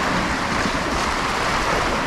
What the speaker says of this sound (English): So watch these waves here.